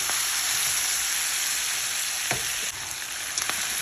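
Boiled taro is stirred into a hot frying pan for a taro-leaf and pork dish, giving a steady, close sizzle with a few sharp scrapes and knocks of the spoon against the pan.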